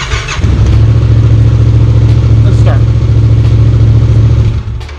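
A Yamaha FZ-07 motorcycle engine with keyless ignition runs steadily at idle, a loud, close, continuous low throb that holds for several seconds before tapering at the end.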